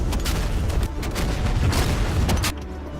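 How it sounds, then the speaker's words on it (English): Rapid explosions and booms from a combat video game, dense and loud, a steady barrage of blasts and rumbling impacts with no clear talking over them. "All kinds of explosion."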